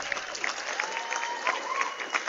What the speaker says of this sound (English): can we get a big round of applause for both teams for an exciting presentation today?